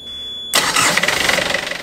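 Boat engine freshly rebuilt after a service cranks and catches after a half-second lead-in, then settles into a loud, close, rapidly pulsing idle.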